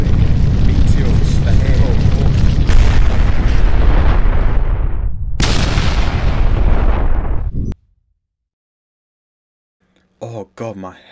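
Meteors strike in the Minecraft video game as loud, dense, rumbling explosions that roar continuously for several seconds, broken by one short pause, then cut to silence before game sounds return at the end.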